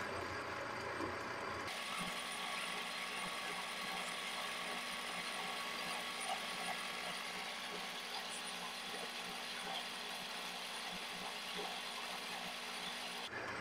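A cutter machining a piece of greasy Delrin plastic runs as a steady, dense whir with a fine ratcheting chatter, loud and close, holding evenly throughout without pauses and with no one talking.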